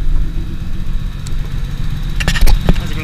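A Nissan Skyline R31 with a stock RB30 engine idles close by with its bonnet open, giving a steady low rumble broken by a few sharp clicks and knocks near the end.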